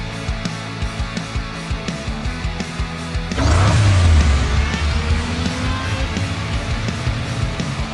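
Race car engine sounds from the Hot Wheels Unlimited video game, a Twin Mill car at the Danger Zone track, with a steady buzzing drone before a loud surge and revving rush midway, holding strong to the end.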